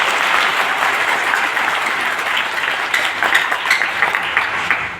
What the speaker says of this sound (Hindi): इसलिए सर के लिए इस पर जोरदार तालियां।